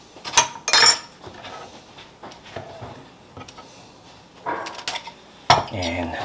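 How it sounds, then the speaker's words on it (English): Spicy ahi poke fish is tipped into a sauce in a bowl, with sharp utensil clinks against the dish and soft wet scraping between scattered, distinct knocks. "we're just going to add all of this fish into our sauce here"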